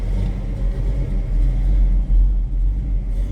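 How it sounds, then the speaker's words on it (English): A 1938 Chevrolet Master Deluxe street rod engine idles steadily with a low, continuous rumble, close by and without speech. "Nice sounding car."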